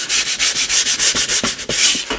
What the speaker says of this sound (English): You can just lightly sand the edge, and that'll take the burrs off of it